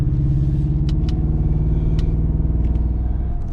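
A 2007 Ford F-150 with a 4.6 V8 engine pulls hard on the highway, a loud, steady, deep rumble with throbbing pulses and a few faint clicks.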